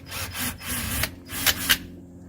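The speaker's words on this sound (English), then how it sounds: "I have this right angle drill, and it works perfect for coming up underneath here" Right angle drill backing a screw out from underneath the armrest of a 1984 Mercedes 300SD, a close, muffled whirring grind that rises and falls in short bursts with a couple of sharp scrapes near the end.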